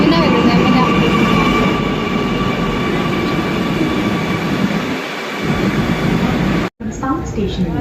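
Train noise fills a station platform in Tirunelveli, a loud, steady rumble of wheels and carriages with a sharp cut near the end, voices faint beneath.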